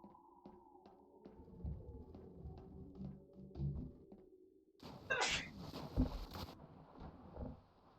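A sneeze bursts out mid-game during Half-Life 2 play, a sharp loud blast around the middle following quieter game clatter and taps, then fading into low thumps.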